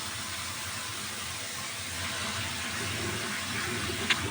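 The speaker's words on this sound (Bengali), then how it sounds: "তাই একটু চাল ভালো করে ধুয়েই নিতে হয়" Store-bought rice is rinsed in water, giving a steady, soft wash of running and swirling water at close range, with a small splash near the end.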